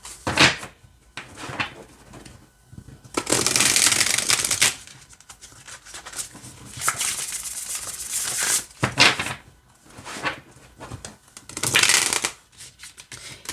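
Oracle cards are shuffled in several quick bursts, crisp riffling rustles separated by brief pauses and soft handling noises, close by and with no talking.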